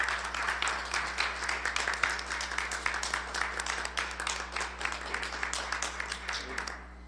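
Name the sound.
audience applause for re-elected council president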